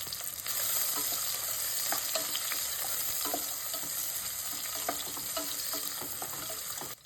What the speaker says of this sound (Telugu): బిర్యానీ ఆకుని, లవంగాల్ని, చెక్కని, స్టార్ని కూడా వేసి అవి కొంచెం వేగిన తర్వాత ఆనియన్స్ని కూడా వేసి ఒకసారి కలుపుకోండి